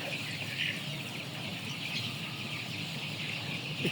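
A crowd of poultry chicks chirps steadily during morning feeding, a dense, continuous high-pitched twittering that carries on without a break and with no one speaking.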